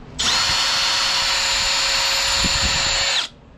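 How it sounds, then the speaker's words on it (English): A power drill pre-drilling a hole whirs steadily at close range for about three seconds, a high constant whine that starts abruptly and cuts off cleanly. "I'm gonna pre-drill my hole"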